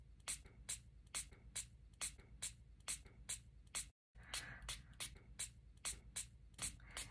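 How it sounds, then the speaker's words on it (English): Quick bursts of a spray bottle misting water, repeated in a steady rhythm, close and crisp with a brief pause midway. "I'm going to go ahead and pick up my little spray bottle here."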